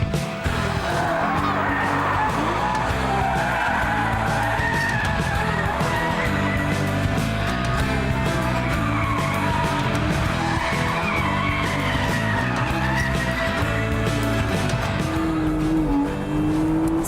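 A Porsche Boxster roadster driven hard on a racing circuit, engine loud and close as it revs and shifts, with tires squealing and skidding through corners for most of the run.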